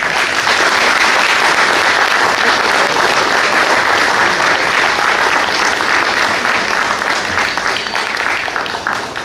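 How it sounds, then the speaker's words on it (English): At a talk, a crowd breaks into loud, dense applause that carries on steadily for about nine seconds, close and full, easing slightly toward the end. "Thank you for your applause."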